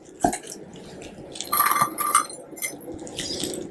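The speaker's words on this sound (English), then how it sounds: "It's frozen solid, so let me see if I can break it up some" Frozen-solid butternut squash is broken up in a container, giving close, hard clinks, knocks and scraping taps in an irregular burst of strikes.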